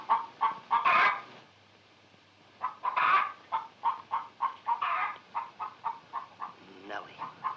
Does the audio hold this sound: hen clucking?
yes